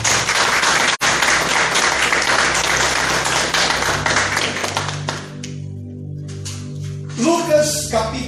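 Congregation applauding in a church, dense sustained clapping for about five seconds that then fades, followed by a voice and musical tones.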